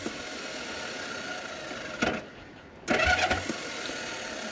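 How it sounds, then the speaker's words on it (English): A failing starter motor on a Honda CL450 motorcycle whirs and spins without catching the engine, two short mechanical bursts close by, separated by a pause, with no running engine following. "This is what the starter's doing."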